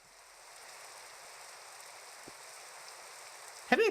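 Steady rain hisses in the horror video game Gore Screaming Show, an even wash of drops that holds throughout before a sharper, louder burst of sound near the end.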